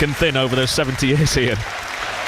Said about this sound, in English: Great round of applause and a great way to honour that side and those supporters